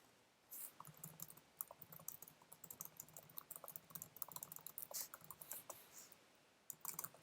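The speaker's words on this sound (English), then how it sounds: "Let me type this." Keys on a computer keyboard clatter in quick, uneven bursts of typing with short pauses, fairly faint and close, with no one speaking.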